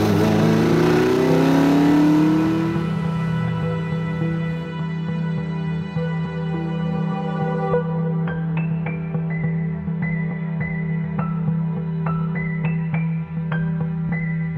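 Ferrari engine revving, then settling into a steady, buzzing idle with a low, throbbing tone. Sharp clicks and ticks sound during the idle, and the engine stays loud and close throughout.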